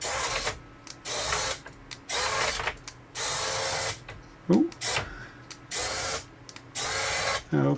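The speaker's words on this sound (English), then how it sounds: "So there's the dome motor." An R2D2 droid's dome motor runs on a new wireless receiver circuit board, in repeated bursts of mechanical ratcheting and whirring separated by short pauses, close by, with one brief exclamation.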